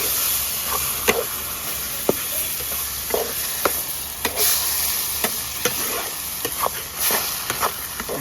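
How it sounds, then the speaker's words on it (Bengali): Tomato paste with chili powder, salt and spices frying in a pan for an egg curry, with a steady sizzle and hiss broken by repeated scraping stirs, close and moderately loud. "ভালো করে কষে নেবো, টমেটোর কাঁচা গন্ধটা যতক্ষণ না যায়।"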